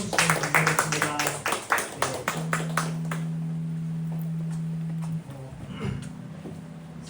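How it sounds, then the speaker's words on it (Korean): A congregation applauds the praise team after a special song at a Korea Coast Guard Academy mission society worship service, with brisk rhythmic clapping at the start that fades out as a sustained electronic tone takes over. "특송해주신 베드로 찬양단에 박수 한번 주시면 감사하겠습니다"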